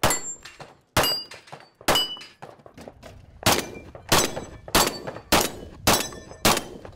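Pistol shots at a shooting competition ring out as sharp, loud cracks, a few spaced apart at first, then a quicker, regular string of reports with clanging echoes.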